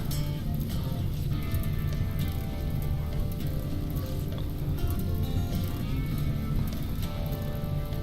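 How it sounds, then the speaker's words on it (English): Steady rain in the video game RimWorld hisses and patters continuously, with faint clicks and a low background hum throughout; no pauses in the downpour. "Oh, it's raining, that's good."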